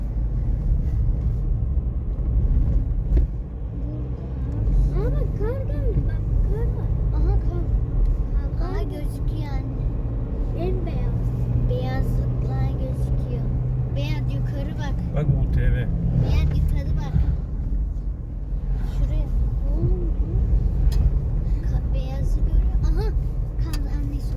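Car driving along a rough, bumpy mountain road on Spil Dağı, a steady low engine and road rumble throughout, with people chatting over it.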